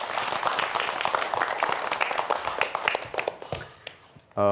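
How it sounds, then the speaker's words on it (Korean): Hand-clapping applause from a lecture audience as a geology professor is welcomed to speak on earthquakes, fairly soft and steady before tapering into a few scattered claps. "박수 부탁드릴게요"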